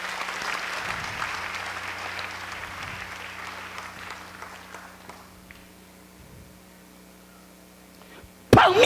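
Church congregation applauding, a broad wash of clapping that fades steadily over several seconds beneath a steady electrical hum, followed by a sudden loud burst at the end.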